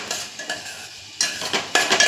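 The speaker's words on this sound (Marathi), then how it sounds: "जाड रवा घेतलाय मी सोजीचा, तूप टाकून भाजून घेते." Coarse semolina is stirred while roasting in ghee in a pan, giving repeated scraping strokes with a faint sizzle and occasional clinks of a spoon against metal, close and fairly loud.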